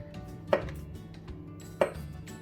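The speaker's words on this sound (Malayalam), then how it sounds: "ഈ ബനാന ചെറിയ ചെറിയ പീസായിട്ട് നമുക്ക് മുറിച്ചെടുക്കാവുന്നതാണ്" Knife chopping a banana into small pieces on a board, two distinct close taps about a second apart over quiet background, no speech.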